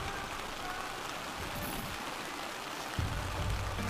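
Rain patters steadily on a tent at a Colorado Trail campsite near Durango, a dense, even wash of drops heard close by and uninterrupted, with a slight bump in the sound near the end.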